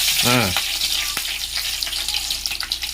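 Mustard seeds, curry leaves and a green chili hit hot oil for a street-food boiled-and-fried egg dish, a loud close crackling sizzle with a brief tonal squeal at the start, then steady spluttering.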